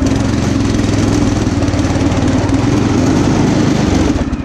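A small engine on a homemade motorized lawn chair runs steadily and loud at close range, a droning, lawn-mower-like buzz with a constant low throb that eases slightly at the very end.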